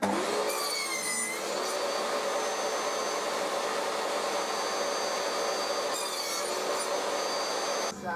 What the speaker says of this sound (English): And now I can cut the tenon.